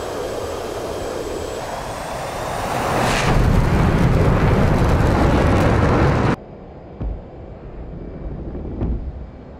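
A jet engine on an F/A-18 Hornet in the DCS flight simulator rises in a broad, loud roar, with wind rushing in as it throttles up, then cuts abruptly to a quieter hum with a few thumps.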